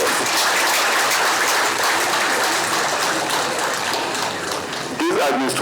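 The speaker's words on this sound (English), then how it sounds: "I think President Bola Ahmed Tinubu deserves a big round of applause" Loud, dense audience applause at an official government event marking an agreement signing, a continuous wash of clapping that fills the room throughout, with a brief voice near the end.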